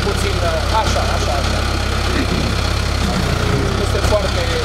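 A tractor engine runs steadily at a loud, constant level throughout, low rumble beneath ongoing outdoor crowd chatter and voices.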